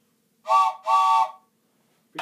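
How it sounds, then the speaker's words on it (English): Two long, loud blasts from a Thomas and Friends wooden toy train whistle, each shrill and steady with a short gap between, followed by silence and a brief start of another sound. "This is the Thomas and Friends wooden whistle."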